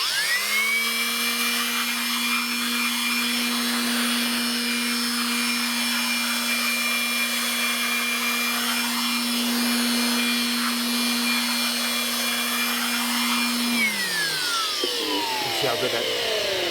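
Air blower drying tire dressing on a Ford Raptor tire, a loud steady high-pitched whine running continuously, then winding down in pitch near the end; close and alone.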